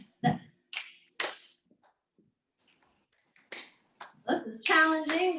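Hands clapping and fingers snapping during a Parkinson's exercise class, several sharp separate snaps and claps spaced by silence, followed by a sung or spoken voice at the end.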